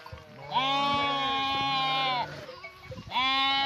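Sheep bleat on a highland pasture, two long, loud, wavering calls close by, the second starting as the clip ends, with faint background noise between them.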